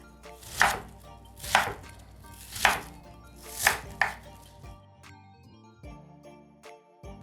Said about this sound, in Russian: лук нарезаем